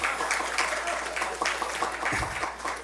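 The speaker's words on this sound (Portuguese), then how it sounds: "uma salva de palmas, por favor" Audience applause at a public hearing in a city council chamber, a steady, dense patter of many hands clapping that holds at an even level throughout, with no voices over it.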